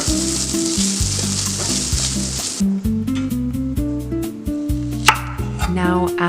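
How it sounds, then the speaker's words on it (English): Crumbled tofu stir-fried in oil in a pan gives a steady broadband sizzle with scraping stirs, loudest in the first few seconds, beneath continuous tonal background music. "Add the crumbled tofu and stir fry it until it starts to turn lightly golden."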